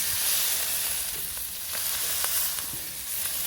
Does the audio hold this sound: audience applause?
no